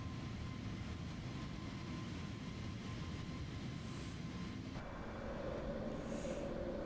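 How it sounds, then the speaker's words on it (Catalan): Steady airliner engine drone inside an A320 flight simulator game, with a mechanical clunk and shift in tone partway through as the landing gear retracts after takeoff, continuing loud and constant to the end. "El tren d'aterratge."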